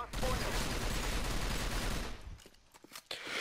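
Video game gunfire from an M4A1 rifle, a dense burst of rapid shots lasting about two seconds and then breaking into a few scattered reports, with a voice faintly present.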